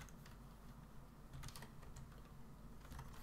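Typing on a computer keyboard, soft quick clusters of key taps in short bursts, faint and close against a low steady hiss.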